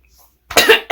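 Two harsh coughs burst out close and loud after a half second of near silence, a longer rough fit followed by a shorter one, from a person in their room.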